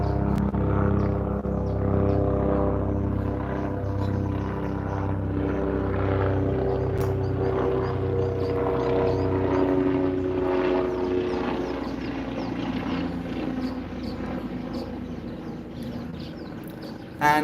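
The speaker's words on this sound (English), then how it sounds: "There's like there's a chopper flying over us right now." A helicopter flies overhead, its steady rotor and engine drone filling the whole stretch, loud and close, holding nearly constant before easing slightly toward the end with no talk over it.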